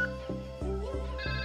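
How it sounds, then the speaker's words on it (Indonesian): A simulated Cisco IP phone rings in a computer network simulation, giving a steady electronic tone repeated in short, evenly spaced pulses with no break, loud and close. "Oke, berdering."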